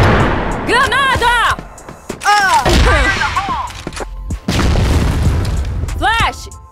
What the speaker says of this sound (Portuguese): Granada.